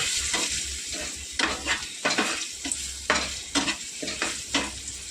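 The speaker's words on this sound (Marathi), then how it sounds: "आता सगळं व्यवस्थित परतून घेऊया" Spinach and corn sautéed in a pan with Malvani chili masala and a pinch of hing: a steady sizzle broken by repeated scraping stirs, close and fairly loud, with no talking.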